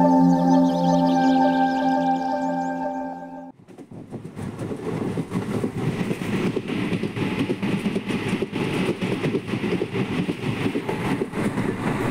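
A train runs on rails with a steady, dense rumble and rapid rattling, loud and continuous for most of the stretch, preceded by a few seconds of sustained tonal music.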